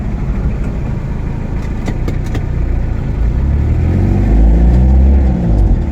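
A Toyota Liteace CM-36 van engine running while driving, a steady close low rumble that rises in pitch and loudness toward the end as the van speeds up.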